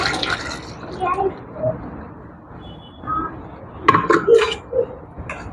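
Boiled chickpeas and their cooking water are poured into a simmering pot for chickpea kurma, with splashing, a few clinks of metal and glass, and brief bursts of pouring between quieter moments; a voice talks intermittently.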